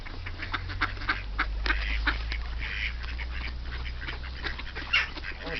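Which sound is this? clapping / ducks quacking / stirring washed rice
ducks quacking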